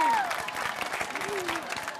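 Studio audience applause on a Vietnamese travel game show, a steady dense patter of many hands lasting about two seconds, with whistle-like tones and voices mixed in.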